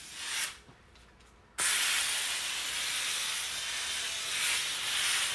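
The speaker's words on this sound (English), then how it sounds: "Steaming that nice and clean." A Wagner Spraytech 915e on-demand steam cleaner sprays steam onto furniture, a loud, steady hiss that cuts out briefly near the start and then runs continuously, close by with no talking.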